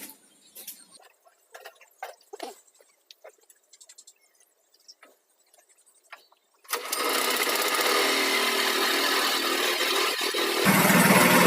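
A poultry feed mixing machine starts after a few scattered knocks and clicks, then runs as a loud, steady, close motor drone that grows slightly louder near the end.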